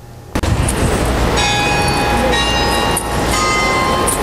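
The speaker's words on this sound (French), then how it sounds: "Les cloches sonnent ce matin pour le carême à l'église Saint-Pierre et Saint-Paul de Pointe-à-Pitre" Loud, continuous ringing of church bells for Lent at the Saint-Pierre et Saint-Paul church in Pointe-à-Pitre, Guadeloupe, with sustained metallic tones layered over a dense rumbling background for several seconds.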